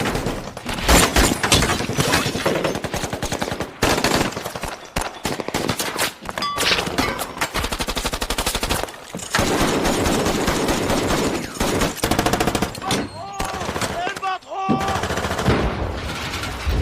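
Bursts of automatic gunfire from ISIS fighters at a road blockade in a film, loud rapid volleys with brief gaps, mixed with thuds and shouting voices.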